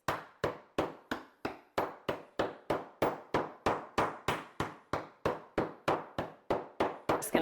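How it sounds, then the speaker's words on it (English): Steady, evenly spaced thuds of a mallet striking hard candy in a bag, about three blows a second, close and crisp. "I'm going to take my mallet and I'm just going to hammer these so that they break into little bite-sized pieces."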